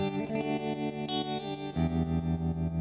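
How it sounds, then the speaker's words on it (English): Electric guitar chords through an MXR M305 tremolo pedal ring out with a gentle, warm pulsing tremolo, one sustained chord giving way to another, played alone. "it's another nice kind of subtle warm tremolo."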